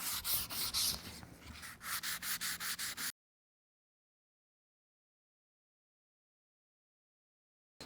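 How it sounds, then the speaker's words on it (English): About three seconds of rhythmic, close hand sanding, a gritty scratching rasp as 220 grit sandpaper strokes back and forth over a wood surface, then silence. "The next step is to sand the surface with 220 grit or finer"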